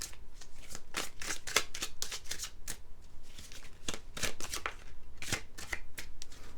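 Tarot cards are shuffled up close, giving quick riffling bursts and soft flutters in an uneven rhythm, quiet and with no voice.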